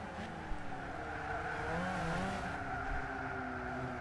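Engine of an Alfa Romeo 147 pulling under acceleration, a continuous droning note rising and shifting in pitch as the turbo spools up, heard steadily from inside the car with no talking.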